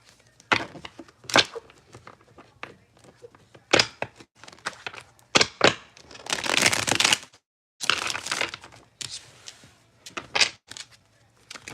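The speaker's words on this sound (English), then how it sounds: "I finally know, well, I already knew how to shuffle these cards." Repeated bursts of papery shuffling and riffling cards, irregular clusters with quiet gaps, one longer flurry in the middle, close and crisp.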